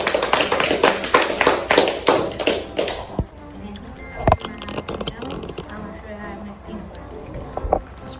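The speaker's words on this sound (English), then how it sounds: "Round of applause." Applause from a sixth-grade classroom: dense, close clapping for about three seconds, then tapering into scattered claps and light thumps with faint chatter.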